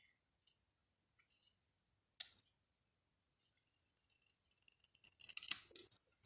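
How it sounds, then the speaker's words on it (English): Scissors snip through paper while lines of printed words are cut apart for card making, with a lone crisp cut early followed by a quick run of small snips and clicks close by in an otherwise quiet room. "we're going to just go in between each line and cut them apart"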